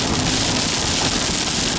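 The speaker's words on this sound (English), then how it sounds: "it's raining just a little bit." Light rain falls in Oklahoma, about 60 miles west of Tulsa, making a steady, even hiss of drops on surfaces close by, with no voices and no thunder.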